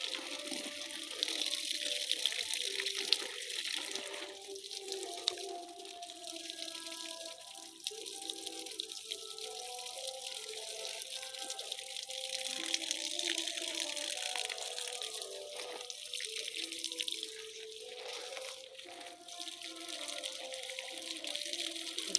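Steady water flow from a battery-run submersible bilge pump pours onto chui jhal plants on a farm, a continuous low gushing and splashing that holds even for over twenty seconds.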